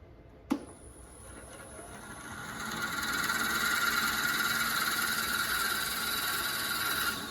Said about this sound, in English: I'm going to drill out that first bit of it right there.